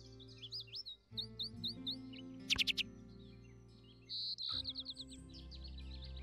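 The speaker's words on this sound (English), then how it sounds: "Yellow-breasted chat" Recorded yellow-breasted chat calls in the Wingspan digital board game: quick runs of high chirps and whistles, a sharp burst of rapid notes, then more chirping phrases over a soft, steady musical background.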